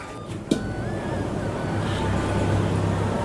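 A mixer grinder grinds soaked karamani (black-eyed peas) into dosa batter: a steady, dense motor whir with a low hum, starting just after a brief click and holding at an even level throughout.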